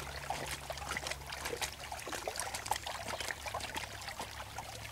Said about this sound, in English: now you want to take your D-net and shake it into the creek to help get out the fine sediment